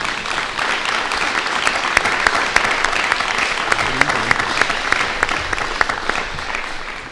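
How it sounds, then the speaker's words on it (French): Audience at a municipal council installation meeting in Saint Germain Nuelles applauding councillor Claire, steady moderate clapping with a few sharper individual claps standing out throughout. "je crois qu'on peut l'applaudir"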